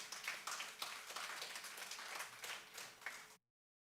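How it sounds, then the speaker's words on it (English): Audience at a building handover ceremony breaks into a steady round of clapping, dense and even for about three seconds before stopping abruptly. "Let's give them a round of applause,"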